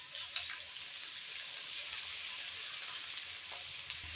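Garlic-ginger paste fries quietly in a pan over golden onions for a Punjabi wadiyan pulao, a soft even sizzle with a couple of faint pops and clinks.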